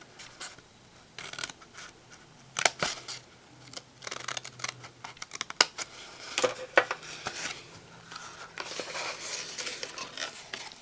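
Scissors cutting a small flap and score lines in cardstock while making a papercraft treat box, a steady run of close, crisp snips and rustling paper, with no voices.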